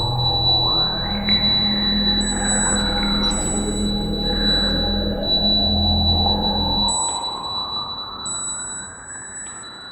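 A sustained, evolving atmosphere pad drone from the Cherry Audio Harmonia synthesizer, with slow sweeping tones and high steady whistles, a low rumble underneath that drops away near the end; no voices.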